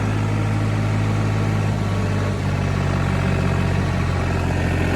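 A tractor works a field during corn harvest, its engine droning steadily and loudly as it bogs under load, with no voices over the continuous rumble.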